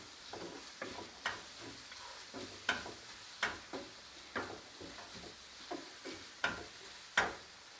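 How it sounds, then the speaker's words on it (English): Butter chicken ingredients sauté in a pan with a soft, continuous sizzle, broken by regular scraping stirs roughly every half second to second, close and with no talking. "And saute it well."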